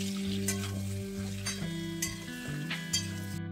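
Potato, papaya, radish, carrot, banana stem and pointed gourd fry in a spiced oil tempering. A loud sizzle carries scattered scraping stir strokes and a faint clink, and no one talks.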